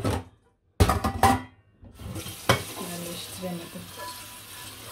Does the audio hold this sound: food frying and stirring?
yes